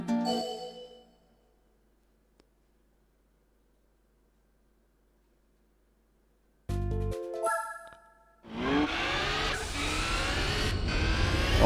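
In Gran Turismo 4, a car engine revs on a Laguna Seca lap: after a short burst and quiet, it starts with a tonal blip, then climbs into a loud, sustained revving roar to the end.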